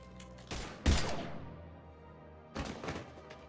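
Gunfire bursts in the Mass Effect 3 video game: a sharp blast just before the one-second mark with a rumbling tail, then a second cluster of shots near the end, loud against a quiet background.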